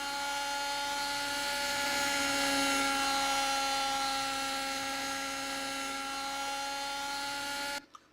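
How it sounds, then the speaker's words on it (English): A high, steady whine of a Kyosho Caliber RC helicopter's rotor and motor in a flight simulator game drones continuously, fairly loud and unchanging, cutting off abruptly at the end. "I'm flying the Kyosha Caliber helicopter here"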